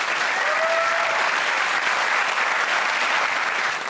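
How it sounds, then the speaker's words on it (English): A large audience at a London car unveiling event applauds steadily and loudly, a dense wash of clapping that holds at full strength throughout. "Let's have a big round of applause for Matt Windle."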